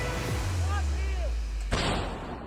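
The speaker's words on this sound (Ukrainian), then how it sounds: "Гармата!" A heavy, booming artillery blast rolls through continuous loud low rumble, with a sharp crack near the end; no voices.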